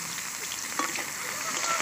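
Chopped onion frying in oil with bay leaves, whole chili and five-spice seeds, a soft, steady sizzle with a faint stirring tap, brief and fairly quiet.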